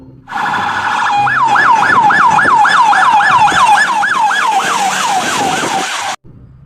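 Toy police patrol car siren wailing loudly in a steady, rapid rising-and-falling cycle for several seconds, with a short electronic chirp at the start and an abrupt cutoff at the end; no talking.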